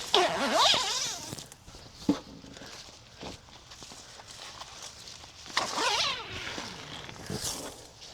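A zipper on a Nextbait VS-360 see-through hunting blind is pulled in long rasping strokes, twice, with rustling fabric and soft handling noises between, close by.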